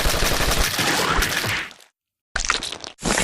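Dense bursts of video game gunfire in Poppy Playtime, a loud, rapid stream of shots that cuts to silence before two short, sharp volleys follow, with no talking.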